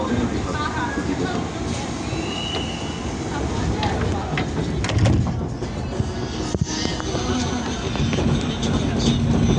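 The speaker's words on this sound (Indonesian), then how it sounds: "KRL yang akan saya naiki dengan tujuan akhir stasiun Angke atau stasiun Kampung Bandan telah tiba di jalur 2 stasiun Jatinegara" A KRL commuter train at Jatinegara station in Jakarta, heard as a continuous broadband rumble of the train and platform noise with scattered clanks and squeals, steady and moderately loud throughout, with voices mixed in.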